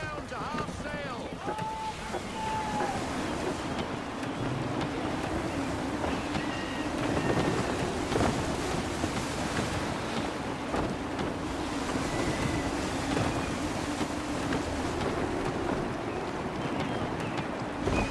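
Gusty wind and sea waves around a sailing ship at sea in Assassin's Creed 3, a steady rushing blow with surging water and creaking, voices speaking briefly over it.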